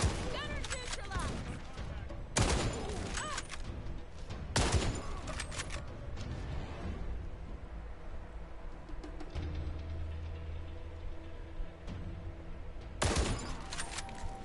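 Gunfire from a cooperative PvE shooter video game rings out in sharp loud bursts and short volleys amid continuous in-game background noise, heard close with no voice over it.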